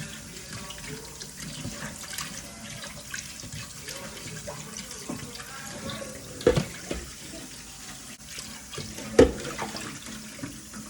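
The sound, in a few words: rinsing raw meat under running tap water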